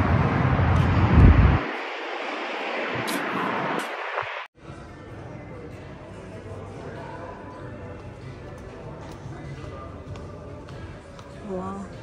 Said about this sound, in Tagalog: Ang hangin ngayon eh.